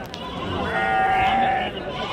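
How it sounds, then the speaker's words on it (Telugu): Goats and rams bleat at a crowded livestock market before the Bakrid festival, one drawn-out, wavering bleat standing out over a steady murmur of people talking nearby. "2 మేకలు 2 పోతులు"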